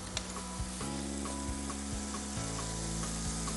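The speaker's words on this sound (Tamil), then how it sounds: "அண்ட் கேரட்ஸை நல்லா வதக்கிக்க போகிறோம்" Carrots sauté in a hot pan, a steady loud sizzle with the scrape and clink of stirring at regular intervals, close up and with no talk.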